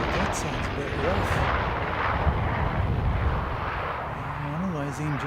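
Jet aircraft engines running rough at an airport viewing mound: a steady, broad roaring drone with uneven tonal wavering, heard from a distance while commentators talk over it.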